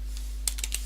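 A few quick keystrokes on a computer keyboard as a command is typed, soft clicks close by over a steady low hum.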